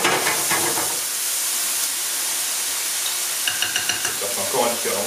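Crème fraîche and milk stirred together in a hot pan, a continuous bright sizzle with scraping utensil strokes, steady and close.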